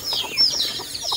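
Free-roaming chickens in a garden cluck softly in short repeated bursts over a background of constant high insect-like buzzing.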